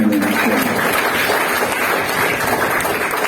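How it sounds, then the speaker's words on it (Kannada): A lecture audience in Vijayapur claps in a dense, steady round of applause that holds at an even, close level from start to finish. "ಅದಕ್ಕೊಂದು ಚಪ್ಪಾಳೆ"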